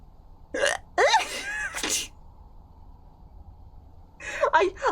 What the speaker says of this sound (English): I've got the hiccups. My hiccups are really violent as well.